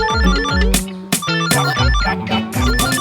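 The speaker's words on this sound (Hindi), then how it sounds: "फोन बज रहा है।" A mobile phone rings loud and close with a repeating electronic ringtone melody, steady pulsing notes through the whole stretch with no talk over it.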